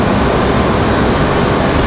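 A loud, steady broadband roar of an airplane at Raleigh Durham International Airport, dense jet-engine rumble and hiss filling the whole stretch without letup, close and alone.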